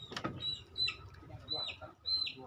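Village chickens cluck in short, soft calls with faint chirps, fairly close but quiet, over a low background.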